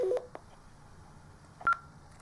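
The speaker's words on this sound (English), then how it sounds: "if the radio receives a group call, it does this noise" A Kirisun S780 two-way radio sounds its group call alert, a short electronic tone pattern heard at the start and again about 1.7 s later, each beep brief and clear over a quiet background.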